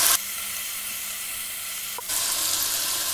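Carrots and onions go into a hot pan of lentil stew with smoked turkey sausage and shrimp, and a loud, close sizzle breaks out. The steady frying hiss swells again about two seconds in as more vegetables are added.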